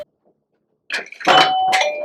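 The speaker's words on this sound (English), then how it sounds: "You push it, it makes a doorbell sound, and this receiver lights up blue." A push-button dog potty-training bell sounds a bright electronic doorbell chime that rings out and sustains, loud and close, after a short quiet pause, with no voices.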